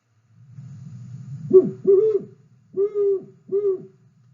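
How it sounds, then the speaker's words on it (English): A great horned owl gives a deep, soft series of hoots in a quiet setting, a low murmur leading into two paired groups of resonant hoots. "But you will hear the great horned owl."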